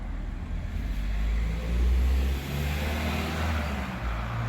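A car engine hums and swells as a vehicle drives past nearby, rising briefly louder then easing back into steady road rumble.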